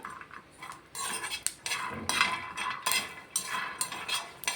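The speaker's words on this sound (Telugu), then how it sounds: "ఇది సిమ్లో పెట్టుకొని కొంచెం అయితే ఇట్లా ఫ్రై చేసుకోవాలి." Chutney frying on low heat in a pan with peanuts, a utensil scraping and clinking against the metal in irregular bursts of stirring, close and moderately loud, no voices.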